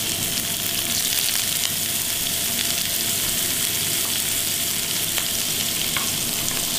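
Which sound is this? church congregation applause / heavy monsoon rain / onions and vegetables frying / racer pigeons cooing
onions and vegetables frying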